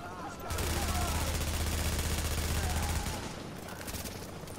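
Shotgun loaded with explosive rounds firing in Tom Clancy's The Division shooter game: dense, loud, close blasts and explosions in a sustained burst of about two and a half seconds, then quieter game noise.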